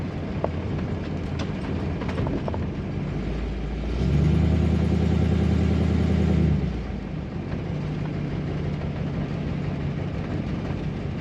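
A 1955 Ford Crown Victoria's engine runs steadily, with a low rumble that swells louder and fuller for a few seconds midway before settling back to an even idle.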